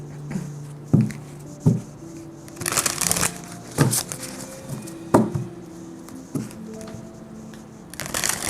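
Oracle cards from a Soul's Journey deck shuffled by hand, giving a series of soft papery riffles and taps at an uneven rhythm, close and clear with no talking.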